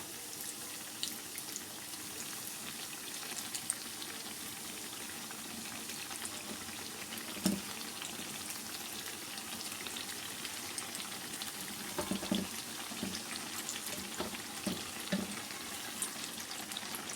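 Brinjal (baingan) pakora fries in oil in a pan, giving a steady, even sizzle with faint crackles throughout and a few small knocks, with no voices.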